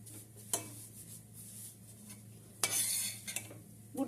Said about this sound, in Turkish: Helvamızı karıştıracağız.